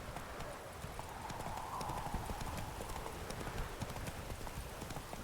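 Roach, the horse in The Witcher 3, trots with continuous, fairly quiet hoof clip-clops that run steadily under a busy game soundscape.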